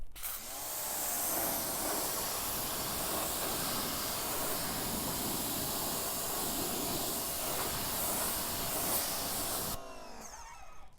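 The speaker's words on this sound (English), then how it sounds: "Now it is totally safe to do a high pressure pre-rinse" A high-pressure washer pre-rinsing a muddy truck, a loud steady spraying hiss that keeps going for about ten seconds before cutting off, heard close with no talking.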